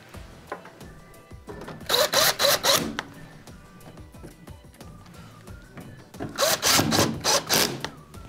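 Screws driven into a Whirlpool oven with a power driver, two loud bursts of rapid whirring with clicks, separated by quieter handling and tapping noises close by.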